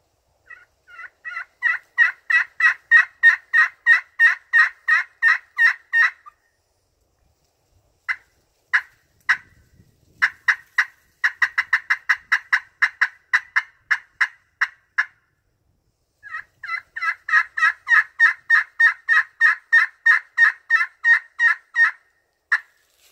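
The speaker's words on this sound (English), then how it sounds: "Another great sounding call. Got the loud front end, good hard sharp yelps, sharp cuts" A two-sided friction turkey call of black anodized aluminum over slate, with slate on the back, produces loud, sharp, rapid yelps in long runs, separated by bursts of quick hard cuts.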